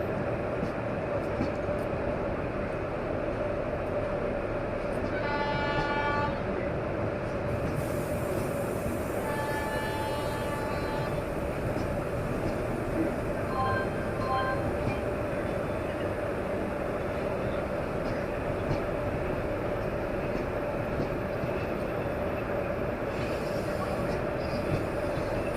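An intercity train from Coimbatore to Tirupati rolls along steadily, a loud constant rumble heard from inside with faint wheel squeals and occasional tonal whines rising over it.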